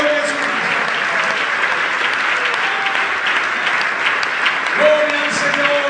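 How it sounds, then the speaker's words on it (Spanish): Congregation applauding during a Spanish-language church service, a steady, dense wash of clapping filling the room throughout with a sustained tone running faintly underneath. "Un aplauso para el Señor Jesús."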